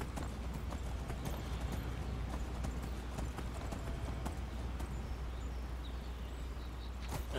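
Horse hooves clip-clop steadily on the ground in Skyrim, a continuous gait with outdoor ambience and no talk, moderately near.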